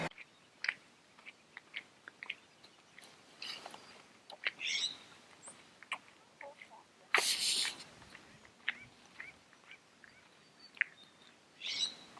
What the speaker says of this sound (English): With our acorn woodpeckers, if you want to try and ID them in the field, listening for that call